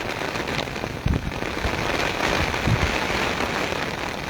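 Torrential rain pours down in Taunsa Sharif, driven by strong wind, a dense, steady broadband roar close by with a couple of brief thumps and crackles breaking through.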